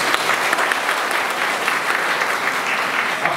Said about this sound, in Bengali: আমি সবাইকে বলবো একটা জোরে হাততালি হয়ে যায়।